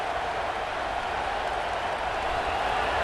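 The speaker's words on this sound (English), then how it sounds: "Listen to this crowd just shaking the girders of this place, trying to help their defense." In the video game EA Sports College Football 26, a loud, dense stadium crowd roars steadily without a break to help the defense, a broad wash of cheering noise filling the whole space.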